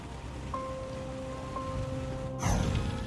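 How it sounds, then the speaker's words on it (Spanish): Heavy rain falling over an airport as a storm darkens the sky, a steady broadband hiss that swells louder near the end, with a faint tonal hum underneath and no talking. "comienza a llover con fuerza"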